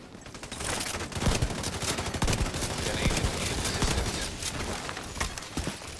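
Enemy gunfire in a PvP match of The Division 2: rapid, sharp bursts of shots cracking one after another at close to mid range, dense and sustained throughout.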